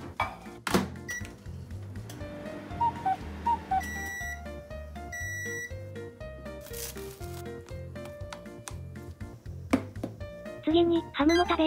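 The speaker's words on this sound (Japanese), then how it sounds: "電子レンジで加熱します" A microwave oven heating a wrapped bowl of chopped carrot and onion, with button beeps, a steady hum from the running oven and a clunk near the end, loud and close, under brief background music.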